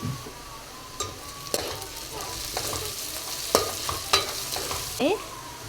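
Egg fry being stirred with salt in a hot pan: a continuous sizzle of frying punctuated by sharp scrapes and knocks of a spoon against the pan, close and fairly loud, no voices.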